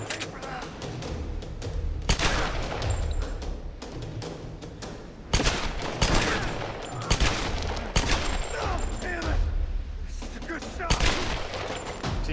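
Pistol fire in the video game Tomb Raider (2013), several sharp shots spaced irregularly across the stretch, with a player talking over the scattered gunfire and background game sounds.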